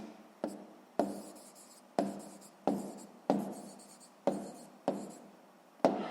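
Pen writing on paper during a sixth-grade maths exercise, heard as a series of about eight short, crisp scratchy strokes at a steady rhythm, close and fairly quiet with nothing else in the background.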